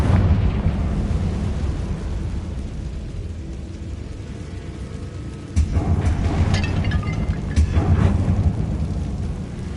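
Bombarda and Confringo spells exploding in the Hogwarts Legacy video game: a steady low rumble with heavier booming blasts bursting in partway through and again near the end.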